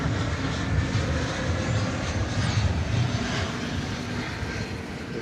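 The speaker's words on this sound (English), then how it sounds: "Airbus A321 Neo" An Airbus A321neo jet arriving at DFW Airport on a flight from Oklahoma City gives a steady, broad engine roar that holds at an even loudness from start to finish, with no voices over it.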